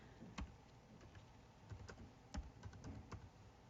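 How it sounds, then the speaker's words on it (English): Quiet keystrokes on a computer keyboard, a short uneven run of separate clicks heard close up over a soft background hiss. "So I'm going to type that out."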